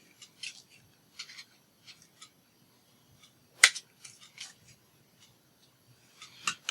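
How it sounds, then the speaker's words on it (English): Scissors trim a knotted thread: a few faint, scattered snips and rustles in a quiet room, with one sharper, more distinct cut near the middle. "I'm just making a knot. I'm going to trim it."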